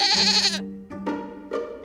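Sheep bleating: one long, loud, quavering bleat close by, followed by two shorter bleats in quick succession.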